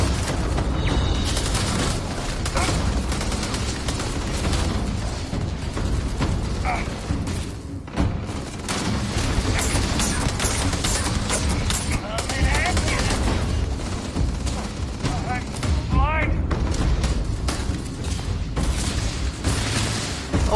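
Enemy gunfire in the Starfield video game, relentless loud bursts of automatic fire and thudding booms filling the whole stretch, with voices talking over the battle.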